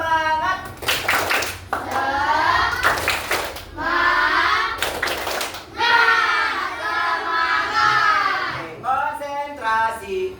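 Children in an Indonesian classroom do a rhythmic clapping cheer, several bursts of unison claps alternating with loud group chanting, close and lively.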